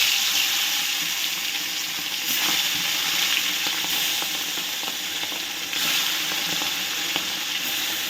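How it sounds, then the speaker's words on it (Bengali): Bata fish sizzle and crackle steadily as they fry in hot mustard oil, a dense, continuous hiss close at hand with no talking throughout. "তেলটা যখন গরম হয়ে গেছে এবার আমি ভাটা মাছগুলো দিয়ে দেবো"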